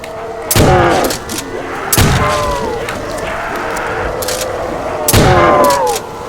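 A Winchester 1897 trench gun fires in Call of Duty World at War Zombies, three loud, punchy shotgun blasts spread over several seconds, each followed by a short ringing tail and mechanical clatter.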